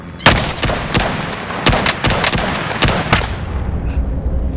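Several semi-automatic M1 Garand rifle shots in Call of Duty, sharp cracks in an irregular rhythm of about six or seven bursts over a steady battlefield rumble, close and loud.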